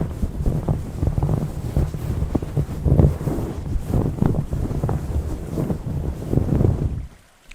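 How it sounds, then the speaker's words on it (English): Canvas tent flap snapping and fluttering in gusty wind, a steady run of close, rough buffeting bursts with no voices, dropping away abruptly at the very end. "It also kind of sounds like a canvas tent, flap blowing in a wind."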